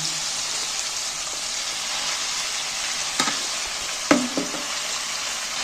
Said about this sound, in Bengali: কাটা শাকগুলো এর মধ্যে তুলে দিচ্ছি